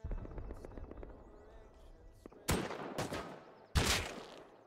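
Gunfire in the video game Rust, with a couple of loud sharp shots late on after quieter rattling and faint background noise.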